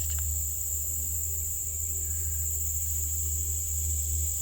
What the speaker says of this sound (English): The forest comes alive with the sounds of songbirds, frogs, and the wind blowing through the trees